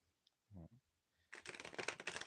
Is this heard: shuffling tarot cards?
yes